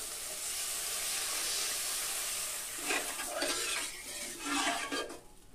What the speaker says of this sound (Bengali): তাই দেখুন এবার আমি এর ভিতর জল দিয়ে দিব।